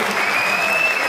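Sustained crowd applause for a boxer at an amateur boxing event in a hall, steady dense clapping filling the room with a faint tone running underneath.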